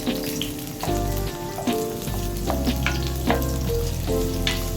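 Onions and garlic sauté in a pan as they are stirred, a loud close sizzle broken by repeated scrapes and knocks of the utensil against the pan.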